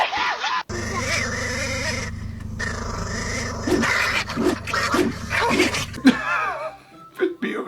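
A Great Pyrenees dog on a farm gives a run of repeated barks and whining yelps over a steady musical background, close and fairly loud.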